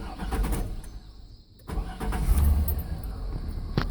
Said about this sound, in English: Now, hopefully, if we start the vehicle,